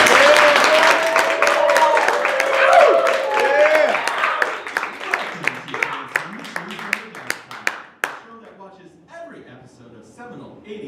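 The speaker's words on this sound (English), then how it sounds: "If you can just applaud with us, and we'll get this show started." A convention panel audience breaks into applause under an announcer's voice, the clapping thinning into a few scattered claps that fade out over several seconds.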